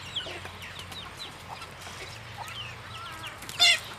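Chickens cluck softly at a distance in an outdoor farmyard, with a sharper squawk near the end over a steady background hum.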